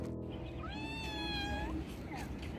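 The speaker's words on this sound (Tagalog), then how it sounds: "Kawawa ng pusa to." A cat gives a single drawn-out, rising-then-falling meow up close, followed by a softer short call, over quiet background murmur.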